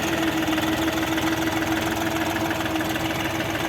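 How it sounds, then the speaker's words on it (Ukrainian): A Bulat 244 mini tractor's small engine idles steadily and close by, a constant mechanical rumble with a faint knocking rhythm and no pauses. "Ось так відбувається відгрузка трактора."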